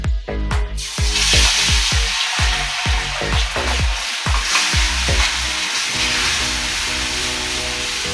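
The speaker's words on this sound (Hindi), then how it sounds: "अब इसमें दूध को साथ साथ ऐड करते जाएंगे और चम्मच हिलाते रहेंगे" A spoon stirs gram flour halwa in a pan as milk is poured in, producing a run of sharp rhythmic scraping strokes over loud bubbling and sizzling that settles into steady hissing frying toward the end.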